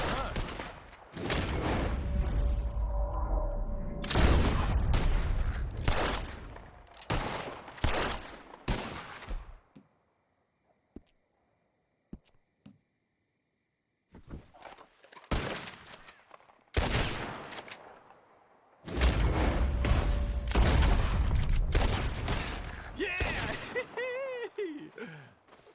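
Rapid bursts of loud gunshots ring out during a shooting contest in Red Dead Redemption 2. Dense volleys in two long stretches are split by a near-silent pause holding only a few isolated shots, with occasional voices.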